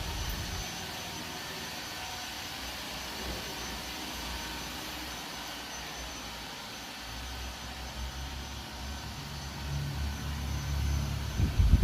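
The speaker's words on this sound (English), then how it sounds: "So I physically moved the robot vacuum while filming, so since the robot doesn't know its location, it has to figure out where it's at." A 360 S6 robot vacuum runs continuously at close range, a steady broadband whir with a motor drone that grows louder toward the end as it moves, no voices.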